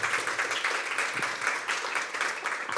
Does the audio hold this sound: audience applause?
yes